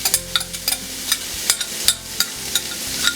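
Onions dropped into a hot pan after meatballs are browned, frying: a loud close sizzle punctuated by regular rhythmic scraping stir strokes, about three per second, with no voices.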